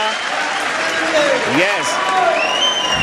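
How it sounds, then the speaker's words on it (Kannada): Loud audience applause at the Abhimanotsava 2025 stage program, a dense, steady wash of clapping that holds for about three seconds, with a few thin whistle-like tones gliding above it. "ಜೋರಾಗಿ ಚಪ್ಪಾಳೆ ತಟ್ಟೋದ್ರ ಮುಖಾಂತರ"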